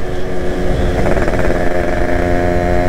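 A Yamaha RX motorcycle engine with a modified muffler rumbles steadily and loudly up close, a deep throaty drone without pauses.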